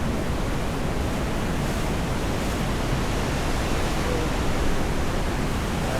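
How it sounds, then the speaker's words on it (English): Ocean surf at Paria Bay, with a wave breaking nearby in a broad, steady wash of roaring water that swells slightly toward the end, with no voices over it. "That's a nice surf wave coming your way."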